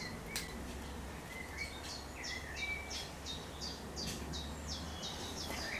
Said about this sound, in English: so tame, them beautiful birds